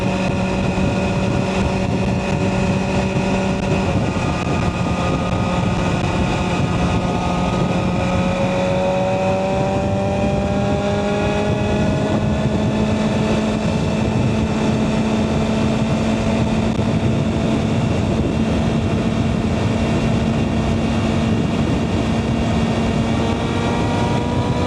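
A 2024 BMW M1000RR motorcycle engine drones loud and continuous while riding, its pitch climbing steadily through the revs under heavy wind rush, with no talking.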